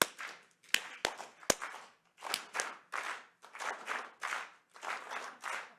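An audience in a university lecture hall claps in rhythm, first one side, then the other, building into rhythmic bursts of group clapping with a few sharp single claps at the start.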